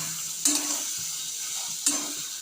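Chickpeas and potatoes sizzle steadily in a hot pan, with two sharp scraping stirs of a spatula cutting through the constant frying hiss.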